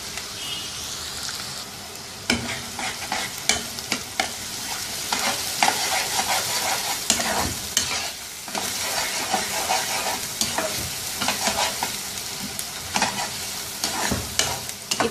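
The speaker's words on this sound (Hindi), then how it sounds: "इतनी देर तक पकाएंगे इस प्याज को कि ये हल्का ब्राउन सा हो जाए" Finely chopped onion with fenugreek seeds frying over high heat in a karahi, a continuous busy sizzle broken by repeated scraping stirs of a spoon against the pan.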